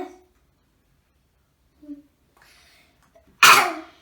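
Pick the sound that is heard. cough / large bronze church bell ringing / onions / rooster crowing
cough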